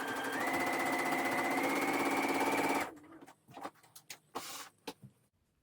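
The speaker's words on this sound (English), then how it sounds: "put a row of easing stitches along the top of your sleeve head" A sewing machine runs easing stitches along the top of a garment sleeve head, a steady close mechanical drone for about three seconds that then stops, followed by scattered light clicks and handling noises.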